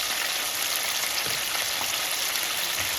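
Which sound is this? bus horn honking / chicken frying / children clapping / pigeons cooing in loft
chicken frying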